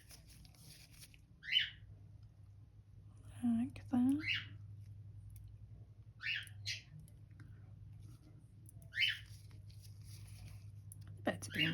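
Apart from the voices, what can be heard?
birds chattering with each other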